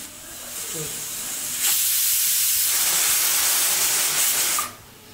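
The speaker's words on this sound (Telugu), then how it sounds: "ఫైవ్ విజిల్స్ వచ్చాయి కదా, ఇంకా స్టవ్ ఆఫ్ చేసుకుందాం." A pressure cooker venting steam: a loud, rushing hiss bursts out for about three seconds, then cuts off abruptly, with quiet kitchen background before and after.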